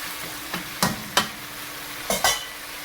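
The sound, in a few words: sautéing vegetables with fish bagoong in a pan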